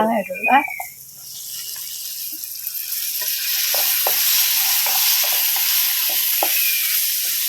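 Mango pieces go into a hot pan of spiced meat masala with chilli powder and sizzle steadily, with scattered stirring clicks over the frying. A brief voice is heard at the very start.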